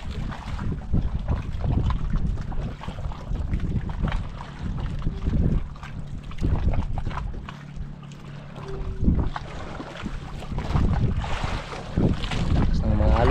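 Strong waves and gusting wind buffet a small boat out at sea, with rough low rumbling water, hull slaps and microphone wind noise rising and falling throughout, with occasional faint voices.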